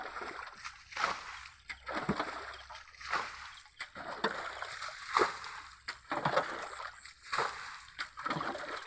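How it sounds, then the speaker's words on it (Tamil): Water pours steadily over a small dam, a continuous rushing splash with rhythmic surges roughly every second, close and moderately loud, with no voices. "அந்த அணையோடு இருக்கிற தண்ணி மட்டும் அப்படியே ஒடியாருது பாருங்க."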